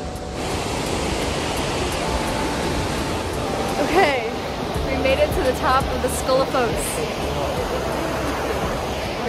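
Steady broadband roar of Skógafoss waterfall in Iceland mixed with wind, with people talking nearby over the constant rushing water.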